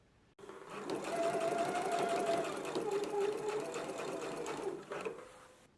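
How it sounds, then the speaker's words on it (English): A sewing machine runs steadily for about five seconds, edge stitching along the neck edge of a knit dress, a continuous close whirring hum with no speech. "I just did my stitch here along the outside, along the neck edge"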